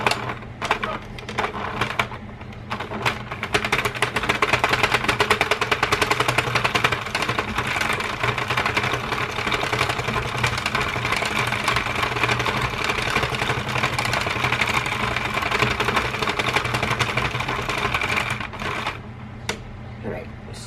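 A knitting machine carriage runs across rows of waste yarn while making a knitted cover for a styrofoam mannequin head, giving a dense, loud mechanical clatter that starts after a couple of seconds and continues steadily almost to the end.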